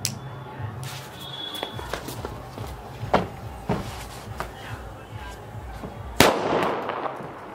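Diwali firecrackers bursting outdoors: a run of sharp cracks and pops spaced irregularly, ending in one louder bang, with faint talk in the background.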